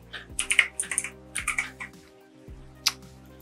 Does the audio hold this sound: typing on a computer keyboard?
yes